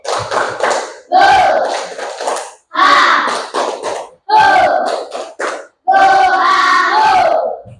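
A class of students shouts the 'tepuk gohaho' clapping chant in five short, forceful bursts of group chanting and claps, each separated by a brief gap.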